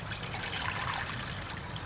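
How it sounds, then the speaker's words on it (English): Water pours steadily into a cook pot set on a camping stove, a continuous close hiss and trickle with no pauses. "I'm going to fill it with water"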